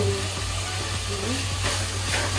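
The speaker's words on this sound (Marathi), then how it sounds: "कढीपत्ता दोनच पानं टाकते" Curry leaves sizzle in hot oil while a crab curry is prepared, a steady frying hiss with faint stirring taps underneath.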